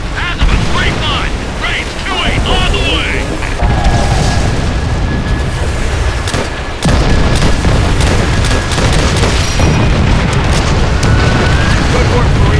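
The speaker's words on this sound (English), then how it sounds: "Call in rocket strikes on those positions!" Rocket strike explosions roll through a Call of Duty: World at War battle, a loud, dense wall of booms and gunfire sustained throughout, with shouted voices mixed into the chaos.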